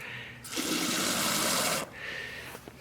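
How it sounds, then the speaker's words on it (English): Water gushes into a sprayer tank in a steady burst for over a second, then cuts off, leaving quieter trickling and faint background noise. "I put a little bit more water in there."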